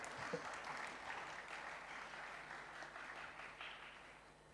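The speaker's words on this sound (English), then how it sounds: "Let's give a round of applause and welcome." A conference audience at a tech summit inauguration claps to welcome a speaker, a soft, even wash of applause that tapers off over several seconds.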